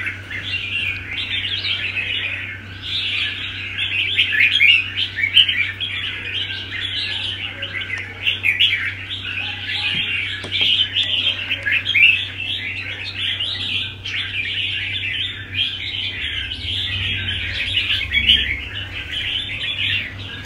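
A caged songbird being trained for racing chirps and tweets continuously at close range, busy overlapping calls running throughout with a faint low hum behind.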